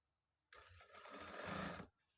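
A sewing machine runs in one continuous burst of about a second and a half, stitching the side seam of a shirt, loud and close, starting and stopping abruptly.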